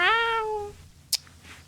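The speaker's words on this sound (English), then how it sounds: "I bet you didn't even realize there's been a cat behind me this whole time" A cat gives one clear, close meow with a falling harmonic pitch, followed by a brief sharp click and quiet room tone.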